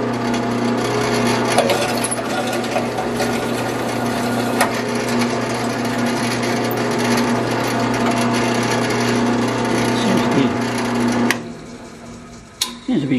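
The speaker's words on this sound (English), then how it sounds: "I'm going to drill the pilot holes first" Power drill boring pilot holes for a homemade ham radio antenna switch, a steady close whirring drone with a constant hum that runs unbroken for about eleven seconds, then stops abruptly.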